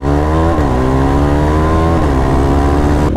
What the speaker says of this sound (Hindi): तो अभी डिकेट होने के बाद ये फर्स्ट स्टार्ट है बाइक का।